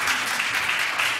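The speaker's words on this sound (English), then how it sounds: "that deserves an applause, yes." Audience applause at a talk celebrating Haitian history, a short steady patter of many hands clapping at moderate volume with no voices over it.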